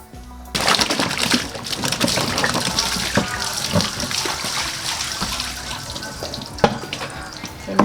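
Tap water runs steadily into a sink while mangoes are washed, a continuous near splashing flow with occasional clinks and knocks of fruit and utensils, no talk over it.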